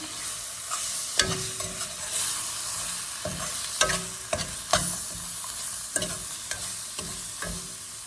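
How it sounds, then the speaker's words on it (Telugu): Gongura leaves stirred in hot oil in a pan, with a steady sizzle and frying hiss under repeated scraping strokes of a spoon against the pan. "ఇప్పుడు గోంగూర వేసేసి కొద్దిగా అలా కలుపుకున్నాము"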